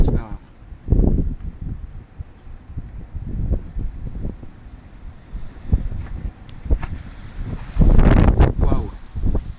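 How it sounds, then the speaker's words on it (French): Strong winter gale gusts sweep through trees at Pernois, surging in loud broadband roars around one and eight seconds and buffeting the microphone, with voices talking intermittently beneath the wind. "Le vent n'a pas l'air de se raffaiblir, au contraire"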